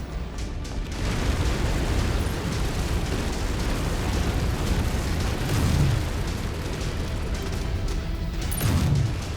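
Warehouse buildings collapse under a battle mech's assault in MechWarrior 5, a sustained rumbling roar of destruction with deep booms swelling near the middle and end, loud and continuous without speech.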